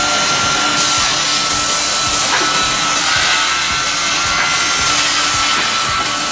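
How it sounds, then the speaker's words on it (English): WD-200/40/N twin-axis multi-blade circular saw cutting firewood in an automatic processing setup, a loud continuous machine roar with repeated thumps and surges as logs pass through. "The WD-200/40/N, twin-axis multi-blade circular saw is a powerful and precise device designed to cut wood and other materials."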